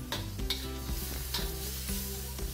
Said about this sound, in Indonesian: Kita tumis dulu sampai dengan setengah matang